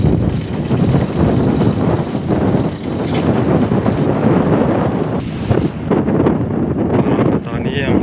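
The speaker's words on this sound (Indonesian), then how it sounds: "Anginnya yang mulai berhembus kencang" Strong wind gusts over a hut in the middle of a rice field and roars steadily into the microphone. The buffeting is loud and continuous throughout.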